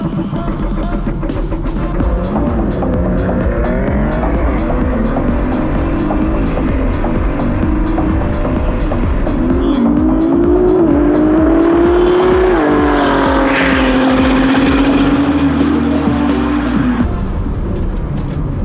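Two Ford GT supercars, a new and a newer model, launching side by side in a drag race, engines roaring loud and close and climbing in pitch through the gears, with tire noise and a steady continuous rumble.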